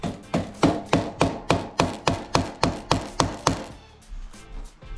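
About a dozen sharp hammer strikes land in a steady, even rhythm, close by and loud, then stop, leaving faint rustling.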